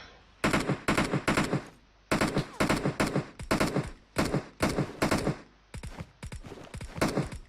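Rapid bursts of automatic gunfire in the shooter game PUBG Mobile, loud close volleys in repeated clusters with short pauses between them and no voices.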